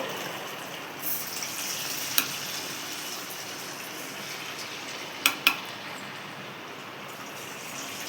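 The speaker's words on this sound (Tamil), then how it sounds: "கரெக்டாக கிறிஸ்பியாக வர அளவுக்கு நல்லா பொரித்து எடுத்துக்கோங்க" Chicken 65 deep frying in hot oil, a steady soft sizzle that runs evenly throughout, broken by a few sharp pops and crackles near the middle, with no talking.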